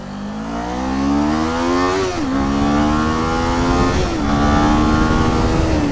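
A 2023 Kawasaki Z400 motorcycle engine accelerating hard through the gears, a rising buzzy rev that drops briefly at each upshift and climbs again, close and loud with wind rush underneath.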